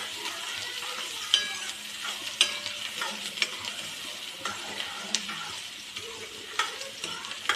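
Onion fries in hot oil in a kadhai, five ladles of oil, for pav bhaji: a continuous close sizzle broken by repeated scraping stirs and light clinks at an irregular rhythm.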